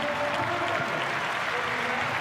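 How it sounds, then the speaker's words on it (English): Applause from a football stadium crowd at a Newcastle Jets match rolls on steadily throughout, a dense, even wash of clapping with no pauses. "applause for the Panamanian."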